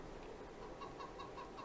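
Farming Simulator 22 chickens in a video-game coop give soft, repeated clucks over a steady low hum, each short call evenly spaced and fairly faint.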